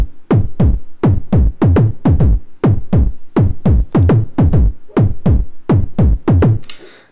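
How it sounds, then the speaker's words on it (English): A 909 kick drum track processed with various effects thumps in a loud, steady four-on-the-floor pattern, about sixteen punchy hits with short booming tails, heard alone before a brief noisy flutter at the end. "909 kick drum, which I'm affecting in various different ways"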